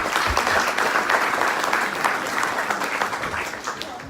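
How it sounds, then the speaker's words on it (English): Players, cheerleaders and guests at a high school Class 2A football ring ceremony applaud the parents, a steady crowd clapping that stays full before easing slightly toward the end. "let's give the parents a round of applause"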